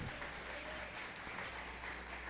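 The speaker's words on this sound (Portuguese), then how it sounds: "Mais uma salva de palmas ao Senhor." A church congregation claps in a steady, dense burst of applause that lasts the whole moment, fairly soft and roomy, with no distinct voices.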